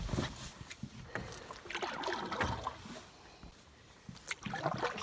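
Canoe paddling on a wilderness lake in Temagami: soft, irregular water swishes and drips from the paddle strokes, fairly close, with light background ambience and no talk.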